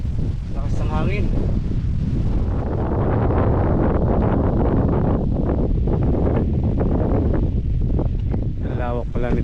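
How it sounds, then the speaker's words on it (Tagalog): Gusty mountaintop wind at a campsite roars steadily and loudly against the microphone, rising and falling in waves, with brief voices at the start and end. "lakas ng hangin."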